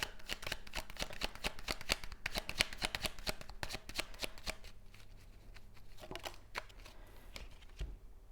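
Tarot cards being shuffled and drawn by hand, a dense run of quick papery riffles and flicks that thins into a few separate card snaps near the end, close and fairly quiet with no talking.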